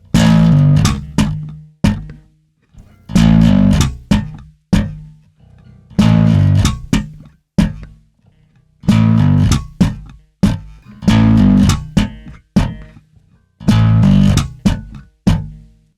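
Bass guitar line built on a pull-off followed by single-stroke syncopated ghost notes, a short percussive phrase repeated several times with brief gaps, close and clear with no talking.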